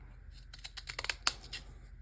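Scissors snip through paper scraps being cut in half for faux postage stamps, a quick series of close, crisp clicks and crunches with one sharper snap near the middle.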